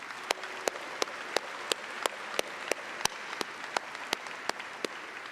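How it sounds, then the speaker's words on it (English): Applause for honored trustees at a graduation ceremony: steady, evenly spaced sharp claps ring out close by over a soft wash of crowd noise. "Please join me with some warm applause for our honored trustees."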